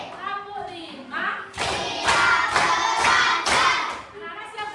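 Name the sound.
class clapping in a clap rhythm routine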